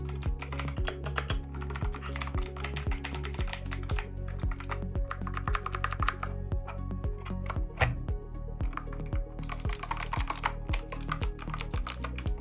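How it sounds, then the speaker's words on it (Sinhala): Steady, rapid clacking of keystrokes on a J20 Pro budget mechanical keyboard, close and clear, with occasional heavier strikes and no talking over it. "හරි පහසුවෙන් යූස් කරන්න පුළුවන් කියුට් කීබෝඩ් එකක් තමයි මේ J20 Pro කියන කීබෝඩ් එක"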